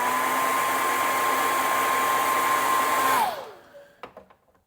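A heat gun blasts a steady loud airy whoosh with a constant motor whine while heat-setting paint on a glide bait fishing lure, then switches off and winds down, followed by a few light clicks.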